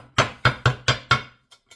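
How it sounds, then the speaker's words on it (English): A ball peen hammer strikes an aluminum strip laid on an old cast iron skillet, five sharp ringing blows in an even rhythm, then two lighter taps, close and alone. "I'm just gonna like hammer this out a bit"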